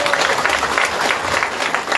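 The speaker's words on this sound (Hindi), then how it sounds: "अपने लिए ताली बजाकर धन्यवाद दे दो" A crowd at a large religious gathering claps steadily and energetically, a close, continuous wash of applause with no voices over it.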